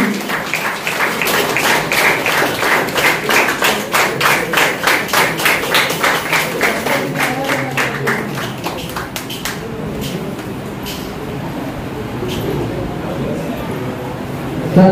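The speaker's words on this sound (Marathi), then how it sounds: "जोरदार टाळ्या आजच्या या मंडळासाठी." Crowd applause at a village student felicitation ceremony in honour of a mandal, dense rapid clapping for about eight seconds that then thins out into scattered claps under a speaking voice.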